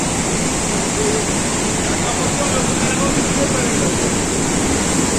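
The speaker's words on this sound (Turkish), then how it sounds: "Yine aynı şekilde aşağılara sular dökülüyor." Water pours down at Samandere waterfall in Düzce, spilling into the valley below with a steady, unbroken rushing roar that fills the whole stretch at even loudness.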